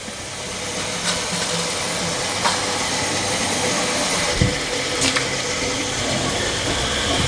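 An 880-S spin rinse dryer runs in a steady, dense whir with a broadband hiss of rushing water and air, loud and continuous, with a few faint knocks over the top.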